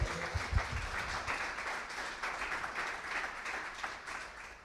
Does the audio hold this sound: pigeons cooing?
no